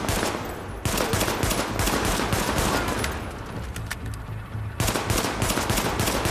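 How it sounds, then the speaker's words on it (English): Pistol gunfire in The Division during the Lincoln Tunnel mission, a dense stream of rapid shots with gunfight noise throughout, loud and close, with a short pause before the firing resumes. "I'm shooting him with a fucking pistol."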